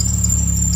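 Near a running Mercedes 190E engine, a steady high-pitched belt squeal sings continuously above the deep idle rumble, loud and close.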